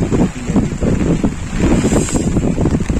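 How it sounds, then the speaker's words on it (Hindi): Strong gusting wind buffeting a microphone outdoors during heavy rain, loud and continuous rumbling roar with rising and falling surges, no voices. "हवा तो चल रही है आपकी"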